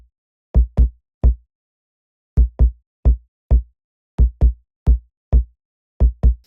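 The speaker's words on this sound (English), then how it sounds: "So the kick and the sub together, these are going into a bus again" An unprocessed 808 kick layered with a sub bass in Logic, from a recreation of a beat: short, deep, punchy thumps in a sparse trap rhythm with clean silence between hits, loud and dry with no voices.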